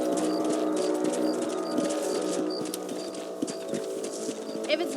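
Hooves clip-clop steadily as a horse is ridden across a ranch property in Red Dead Redemption, with a rhythmic trot under a bed of game music and ambient sound.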